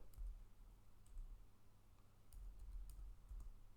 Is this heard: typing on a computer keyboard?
yes